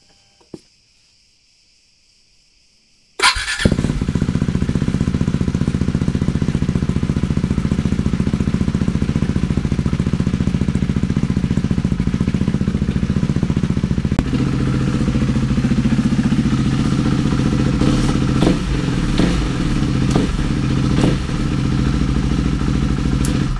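A motorcycle with its exhaust silencer removed bursts into a loud, raw, rasping roar after a few seconds of near silence. It holds close and harsh, with a few brief rev surges near the end.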